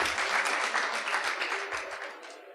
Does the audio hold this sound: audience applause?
yes